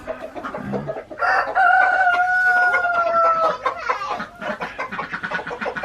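A chicken calls loudly nearby with a drawn-out, wavering squawk, followed by softer clucks and rustling.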